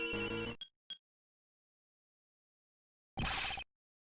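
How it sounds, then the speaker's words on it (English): A cell phone ringing in the game Ace Attorney Investigations 2, short electronic ring bursts: one longer chirp, two quick blips, a pause, then another ring, each clear and alone against silence. "a cell phone."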